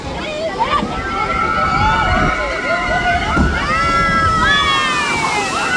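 Water sloshes and splashes continuously on a theme park water ride, with whistles and shouts from riders over the steady wash.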